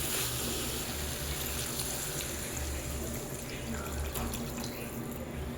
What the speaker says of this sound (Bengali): এইবার আমি এতে পরিমাণ মতন জল দিয়ে দেব।